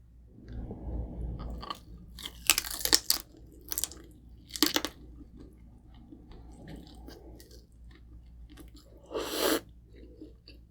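Roasted pork belly lechon with a vinegar dip is chewed close to the mic, with loud crunchy bites of crackling skin in bursts between quieter mouth sounds and pauses.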